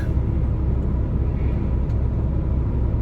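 A diesel truck with a DPF exhaust filter idles in a dense, unbroken low rumble, close and steady for a few seconds, with no voices.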